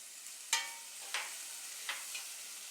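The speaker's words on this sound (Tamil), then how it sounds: "இது எல்லாத்தையும் போட்டு நல்லா வதக்கிடலாம்." Spices with turmeric and chilli powder sautéing in a pan for spinach pulao, a faint low sizzle with three or four distinct scraping stir strokes spaced apart, near and quiet, no voices.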